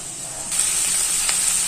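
Food sizzling steadily in a pan for an egg stir-fry, a bright continuous hiss that swells louder after a brief stir partway through.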